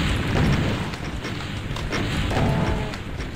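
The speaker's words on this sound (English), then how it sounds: "one good BFG shot is enough to, you know, make it manageable" A BFG shot detonating in a Doom-style shooter, a loud booming explosion with dense low rumbling and crackling debris that keeps rolling throughout, close and heavy.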